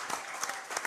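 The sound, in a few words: audience applause for Coach Don Drake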